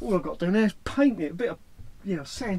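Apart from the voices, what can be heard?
No everyday noise stands out behind the speech.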